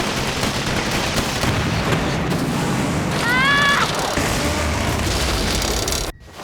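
Gun emplacement firing in a Turn A Gundam anime battle scene, a dense, continuous roar of gunfire and blasts with a brief whistling tone midway, ending in an abrupt cut.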